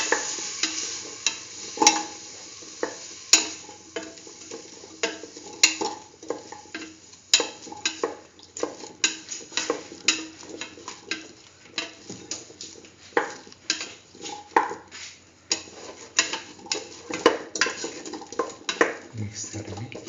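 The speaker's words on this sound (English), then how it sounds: "keep on sauteing, put in the chayote paste, thoroughly mix," Chayote paste is stirred into a split chickpea stew in a pan: a spoon scrapes and clacks in a busy, irregular rhythm over a soft sizzle. Speech shows up faintly.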